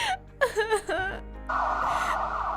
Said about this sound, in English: Jessica, the ambulance arrived.